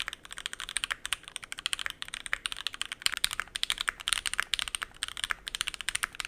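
Rapid typing on a mechanical keyboard with no plate foam, giving a hollow, slightly higher-pitched clack; keystrokes come in quick irregular bursts, close and clear, with no talking.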